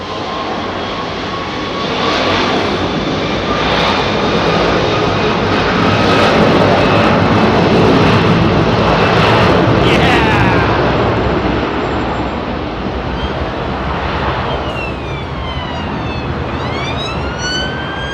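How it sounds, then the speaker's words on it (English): Airbus A330 with Rolls-Royce Trent 700 engines roars past near Heathrow runway 27R, a loud broad rumble swelling and fading over many seconds, with whining engine tones sweeping down in pitch as it passes; no talk. "A330. Those Trent 700 engines."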